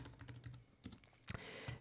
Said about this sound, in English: hit enter on our keyboard